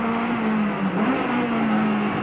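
Touring race car engine at Eastern Creek in a 1992 championship round, a steady loud drone with pitch dips as the driver changes down through the gears, close and continuous without any voices.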